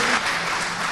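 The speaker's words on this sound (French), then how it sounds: "Applaudissez à rompre et même à faire sauter les toits, même s'ils sont en béton" A brief burst of thick, continuous crowd applause at a congress gathering, loud and close, with no speech heard.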